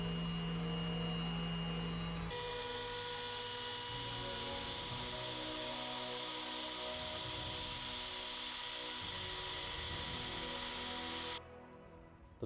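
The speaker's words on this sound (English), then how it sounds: "I'm going to start sanding it down" A power sander runs steadily on the top of a wood river coffee table, a loud continuous whine and rumble that holds for the whole stretch and drops slightly near the end.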